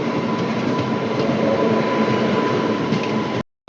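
A Porbandar–Rajkot passenger train rolls along, heard from inside its luggage car as a steady, loud rumble with faint wheel clatter that cuts off abruptly at the end.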